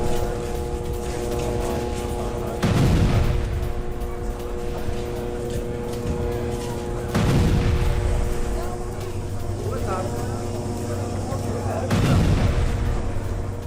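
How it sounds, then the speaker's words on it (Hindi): Israeli bombardment in central Gaza sends three heavy, distant booms rolling out at even intervals, each a broad low thud with a long decaying rumble over a steady background hum and faint voices. "सेंट्रल गाजा में इजरायली बमबारी।"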